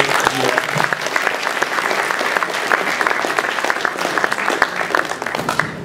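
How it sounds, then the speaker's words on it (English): Steady applause from a crowd at a New York Comic Con panel, many hands clapping continuously at an even level for several seconds, with a few louder claps standing out near the end. "So we get a round of applause for Jim as he sneaks out."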